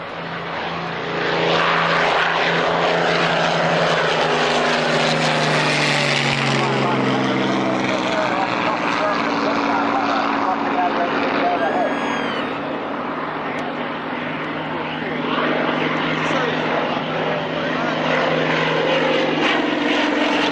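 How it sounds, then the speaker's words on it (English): Spitfires fly at the Duxford Flying Legends airshow, their piston engines roaring loudly and continuously with pitch shifts as the aircraft pass, while a commentator talks over the noise. "Spitfires everywhere."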